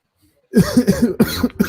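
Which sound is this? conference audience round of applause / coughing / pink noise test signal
coughing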